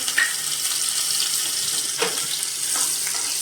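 Mustard seed and cumin tempering sizzles steadily in a pan as a small chopped green chili goes in, a bright, continuous hiss with a few soft clicks and pops, no voices.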